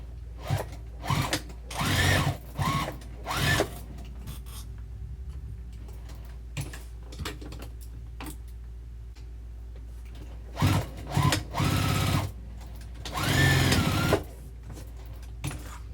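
Sewing machine basting handles onto a vinyl tote bag, short bursts of rapid stitching separated by pauses with soft clicks and ticks, close and clear.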